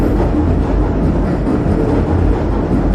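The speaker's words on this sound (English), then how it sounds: "The train is so loud" A passing train rumbles loudly and steadily nearby, a heavy low roar with faint rhythmic rail clatter that continues unbroken, with no one talking.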